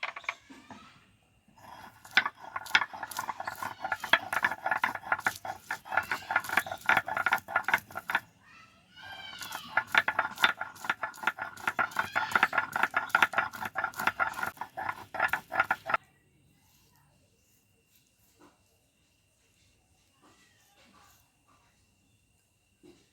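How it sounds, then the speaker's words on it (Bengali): Garlic cloves crushed and ground by hand on a grinding stone in a home kitchen, a dense run of rough, rhythmic scraping and grinding strokes in two bursts with a short pause between, close and fairly loud, then near silence. "এই রসুনটা কিন্তু আমি বেটে নেব"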